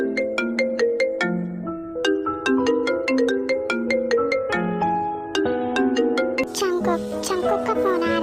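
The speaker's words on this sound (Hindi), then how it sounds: "चंकुक का फोन आ रहा है।" A phone rings with an incoming call at night, playing a bright, repeating melodic ringtone of chiming notes that runs steadily and loud, close by, with no talking over it.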